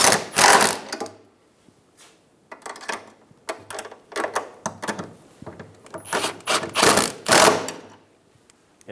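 Bolts on a fuel tank bracket of a 2007-2011 Toyota Camry 2.4L being snugged down with a power tool: repeated loud buzzing bursts, each under a second, in quick uneven succession up close.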